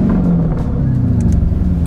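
A Lamborghini's engine runs loud and close, a dense low rumble whose pitch slowly drifts downward after a rev.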